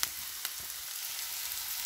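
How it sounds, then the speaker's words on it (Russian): Shredded cabbage fries with carrot and onion in a pan, giving a steady close hiss and sizzle with a few faint stirring clicks. "Вот так вот капусточку я зажариваю с морковочкой,"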